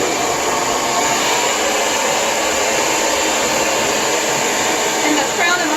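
A Lange Soleil hair dryer blows steadily at close range, a loud, continuous whooshing hiss that holds without a break while drying hair.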